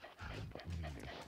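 A dog pants heavily and steadily inside the Goosebumps Night of Scare video game, close and fairly loud, with rapid breathy huffs that run without a break for over a second.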